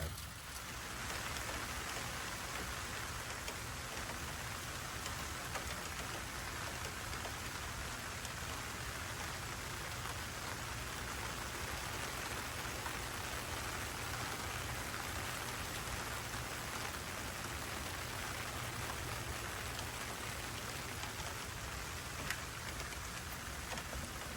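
Steady rain falls outdoors around a smoker, with wood kept under aluminum foil. A dense, even hiss of drops on surfaces continues without a break.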